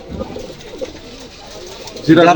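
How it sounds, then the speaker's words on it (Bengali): Pakistani high flyer pigeons, including a golden pigeon with a cumin-coloured neck, coo softly and repeatedly close by, with a voice speaking over them and a louder burst of sound at the end. "এটা জিরা গোল্ডেন, জিরা গলা কালারের গোল্ডেন কবুতর"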